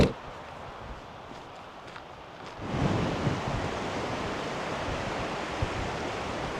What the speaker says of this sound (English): I just started out and it's already incredibly windy